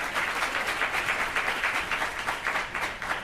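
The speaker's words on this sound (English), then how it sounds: "Give yourself a round of applause" An audience at a leadership networking talk breaks into steady applause, a bright continuous patter of many hands clapping close together, with no speech over it.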